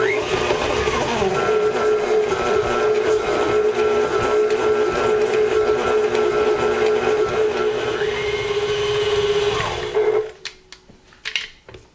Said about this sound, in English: add your stick of butter and your cup of sugar into your KitchenAid mixer. So what we're going to do is beat this for about 2 to 3 minutes